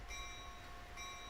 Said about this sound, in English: Oh, that's the bell.